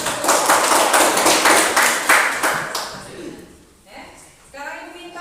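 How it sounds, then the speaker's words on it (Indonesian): Students in a classroom clap together for about three seconds in a brisk, rhythmic burst; the clapping then stops and a voice speaks. "Tepuk tangan."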